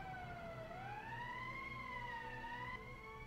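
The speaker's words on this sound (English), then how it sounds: "That's the emergency siren." Wailing emergency siren from the video game Valkyria Chronicles, a single slow rising and falling tone sounding steadily and faintly over a low background hum.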